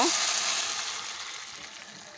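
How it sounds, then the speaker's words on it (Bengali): Hot water hits frying polao rice in a pan, giving a loud hissing sizzle that surges at the start and slowly fades over two seconds, with no talk over it. "এবার ওর ভিতরে আমি গরম পানি দিয়ে দিব"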